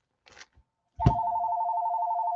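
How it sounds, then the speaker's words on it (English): Telephone ringing indoors, a loud continuous electronic ring that starts abruptly after a couple of soft knocks and holds steady to the end. "Stupid phone."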